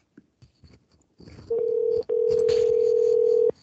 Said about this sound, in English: I hear your phone ringing.